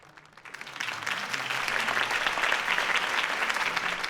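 A crowd applauds after a campaign speech in the Batman: The Telltale Series video game, the clapping swelling quickly from scattered hands into a dense, sustained roar that holds steady to the end.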